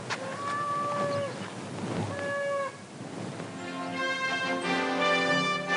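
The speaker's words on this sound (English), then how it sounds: "Those are cows." Cows moo repeatedly, with several drawn-out, overlapping calls from more than one animal, fairly close and clear with no talking.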